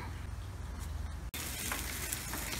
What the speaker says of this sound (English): This technique works great for salmon, steelhead, trout, anything that you're leaving the skin on and you're grilling.